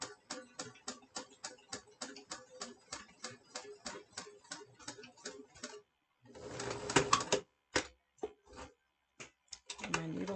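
A sewing machine driven by hand-wheel and pedal stitches through thick material, giving a steady run of quick, even mechanical ticks that stop briefly, then return in a louder, denser burst of stitching with a few separate clacks.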